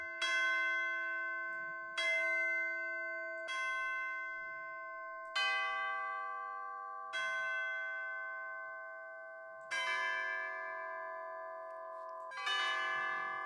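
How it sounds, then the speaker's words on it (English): Sampled chimes from a Sonokinetic Capriccio orchestral library ring out in seven separate bell-like strikes, each clear tone decaying slowly before the next, the last ones brighter and more clustered. "Those are chimes."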